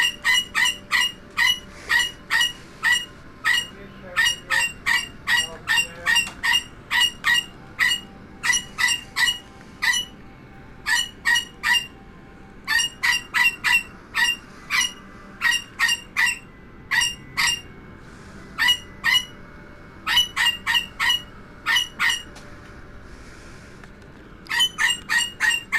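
Close and loud, a pet bird squawks insistently in bursts of rapid repeated calls separated by short pauses, carrying on throughout with no voices.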